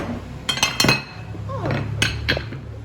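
Plates and forks are set down on a home dining table for a meal of fried dough, giving several sharp clinks and clatters in short bunches close by.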